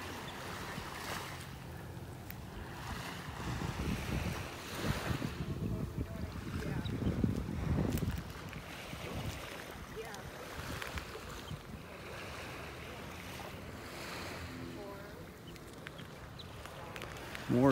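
Waves washing in and out along a beach in North Naples, Florida, with sandpipers running at the water's edge; a steady wash of surf with wind, swelling louder midway, under a walker's presence.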